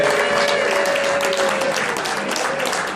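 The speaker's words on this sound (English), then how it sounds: "Let's give Ed a round of applause here as well." Dense audience applause at a gathering honoring a supplier's presentation, steady and loud throughout with a faint tonal hum and some talk mixed in beneath.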